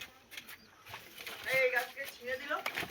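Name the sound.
pigeons cooing in a pigeon loft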